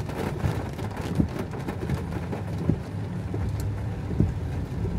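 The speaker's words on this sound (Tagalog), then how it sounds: "ang lakas ng ulan" Heavy rain pours steadily in a dense, even hiss, with scattered louder drops and thumps landing nearby throughout.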